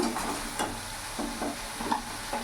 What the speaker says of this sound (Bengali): হলুদ গুঁড়ো দিয়ে দিলাম 1 চামচ, সামান্য একটু লঙ্কা গুঁড়ো দিয়ে দিলাম। ভালো করে নাড়াচাড়া করে মিশিয়ে নিলাম।